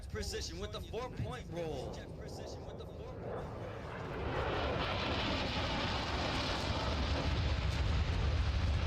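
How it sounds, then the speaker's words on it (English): A 1950s-era F-5 jet performing a four-point roll at an airshow, its engine roar building from a whine under a commentator's voice into a loud, sustained broadband rush as it passes close. "it's Wowo showing you the 1950s jet precision with the 4-point roll"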